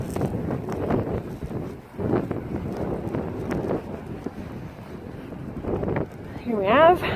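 Steady wind buffets the microphone on a beach along the southern Swedish coast at sunset, a loud continuous rumble with gusts swelling and easing throughout, and a brief higher-pitched sound rising near the end.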